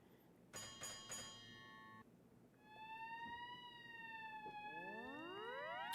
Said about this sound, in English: can hear that bell that's above the back glass